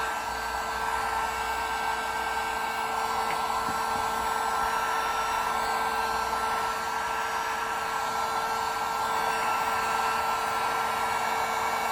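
A hair dryer on its lowest setting warms a glow-in-the-dark Zunisaurus dinosaur figure, blowing with a continuous even whir and a steady tonal hum throughout.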